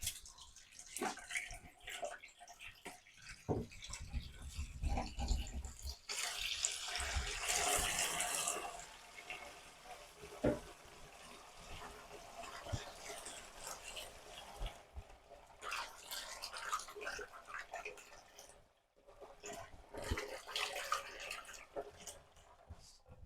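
Hot water running from a tap into a kitchen sink, a quiet steady splashing stream with faint drips and occasional soft knocks, heard from close by at low level.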